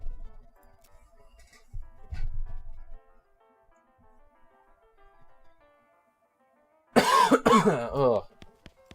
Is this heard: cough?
yes